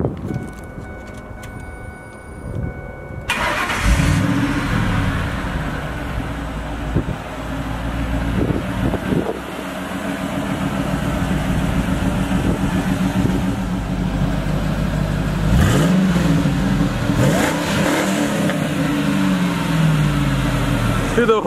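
A Ford F-150 SVT Lightning truck fires up and settles into a deep, rumbling exhaust with several throttle blips, loud and close, with gusty wind noise and occasional voices.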